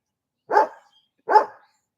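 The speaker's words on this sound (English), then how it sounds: "I hope you guys don't mind the dog barking." A dog barks twice outdoors, two short, clear woofs about three-quarters of a second apart, fairly close and with no other sound around them.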